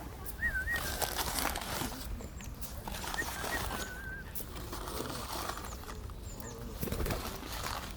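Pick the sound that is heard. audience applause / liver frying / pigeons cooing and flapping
pigeons cooing and flapping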